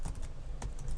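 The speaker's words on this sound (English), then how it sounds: "You can probably hear my keyboard" Rapid keystrokes on a computer keyboard, clicking in quick uneven bursts with a short pause midway, close and steady, no voices.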